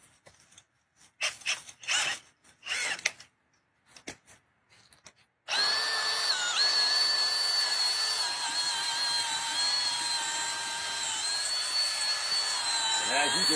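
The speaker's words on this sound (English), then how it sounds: "stick this in and just start running your drill" A drill spinning a cleaning brush inside a dryer vent whirs steadily at close range for several seconds, a continuous high-pitched spinning drone, preceded by a few short bursts of noise and speech.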